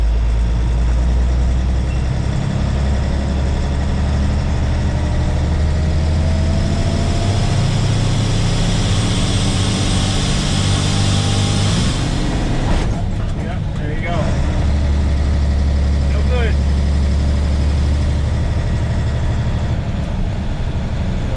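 An International 4700 truck climbs a big hill in low gear, its heavy engine droning loud and constant with a deep rumble and a brief change in tone partway through.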